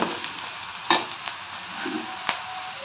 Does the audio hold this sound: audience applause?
no